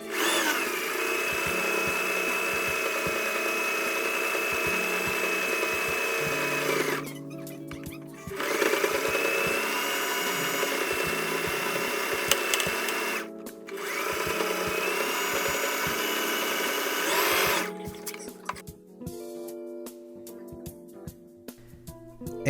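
Sewing machine stitching the back piece of a Spider-Man costume onto the main body, a steady whirring hum running in long bursts broken by short pauses, close and loud with no talk.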